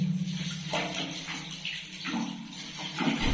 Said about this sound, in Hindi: ये देखिए दोस्तों, यहाँ हमारा पानी आना चालू हो गया है।